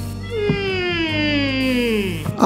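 A single long, drawn-out cat meow from the video game Animal Shelter sounds loud and close, sliding gently downward in pitch, with no voices over it.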